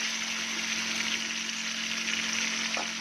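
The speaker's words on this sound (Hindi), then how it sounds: "इसको भी अच्छी तरीके से हमने भूनना है ताकि टमाटर भी अच्छी तरीके से गल जाए" Tomatoes for moong dal fry in a pan with a steady close sizzle and a faint constant hum beneath, a few brief stirring knocks near the end, no voices.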